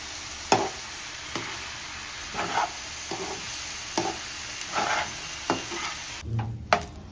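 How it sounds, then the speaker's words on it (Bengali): Khichuri ingredients (rice and lentils) frying in a pan with a low continuous sizzle, broken by about eight sharp spatula scrapes and stirring strokes at an uneven rhythm, close and clear. "এখন আমি সব একসাথে একটু ভাজা ভাজা করে নেব।"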